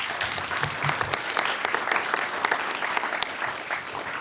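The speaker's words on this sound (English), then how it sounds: "Please give them all a big round of applause." Audience applause fills a comic con panel room for a TV writing session, a steady dense wash of clapping from many hands, loud and close throughout with no talk over it.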